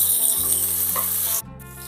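Potato rice being stirred in a pan with added rock salt and turmeric, a steady scraping sizzle running continuously up close, briefly dropping out near the end before resuming, with no voices.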